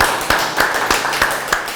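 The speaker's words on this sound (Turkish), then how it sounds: "Bir alkış alalım mı Sabahattin abiye?" A few people clap for Sabahattin in a home kitchen, sharp distinct claps in a loose, roughly even rhythm, close and fairly loud, with no talking over them.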